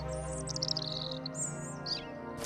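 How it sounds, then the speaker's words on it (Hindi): Small bird chirping in a quick flurry of high, bright tweets as it flies off, fairly near and alone with no talk. "चिड़िया उड़कर वहां से चली गई।"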